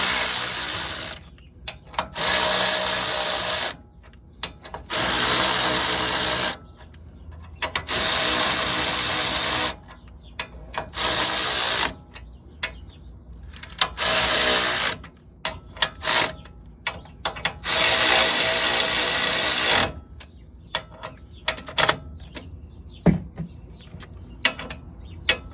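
Ratchet wrench cranking 14 mm bolts on the upper control arm of an 88-97 Nissan D21 pickup, heard as repeated bursts of rapid clicking separated by short pauses, fairly loud and close with no talking.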